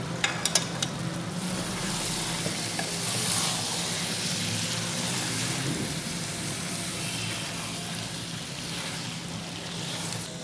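Chicken karahi being stirred in a pan with sliced green chillies and julienned ginger, a steady sizzle with soft scraping and stirring running throughout, close and moderately loud, with a few sharp clinks near the start and no talk.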